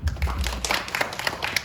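Clapping breaks out among a church youth group at a worship service, a short burst of scattered hands that stays fairly soft and patters unevenly before thinning out.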